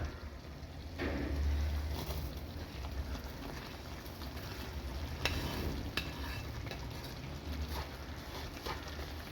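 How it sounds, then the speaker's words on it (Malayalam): Roasted semolina (rava) is stirred in a pan for laddu, giving a steady scraping and sizzling stir that runs throughout, close and moderately loud, with no talking. "റവിയും ചേർത്ത് കൊടുത്തിട്ട് നല്ലതുപോലെ മിക്സ് ചെയ്ത് കൊടുക്കുക"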